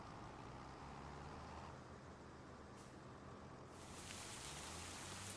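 Steady rainfall in the farming video game Farming Simulator 25, a continuous hiss of rain over a field that swells slightly louder near the end, with no talking.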